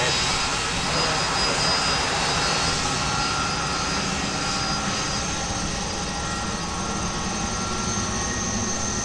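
A Delta airliner lands on runway 30 left at Minneapolis–Saint Paul, its engines a loud, steady roar that holds through the whole stretch without a break.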